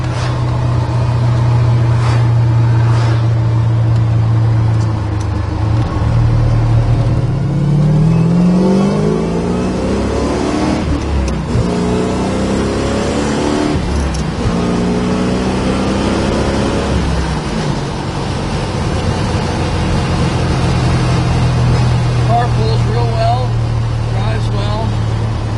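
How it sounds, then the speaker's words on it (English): A reconditioned 1968 Chevrolet Corvette with an aftermarket exhaust system idles with a deep, steady rumble, then revs up through a rising sweep and settles back, loud and close; someone talks over it throughout. "Sounds good, got a nice exhaust system on it."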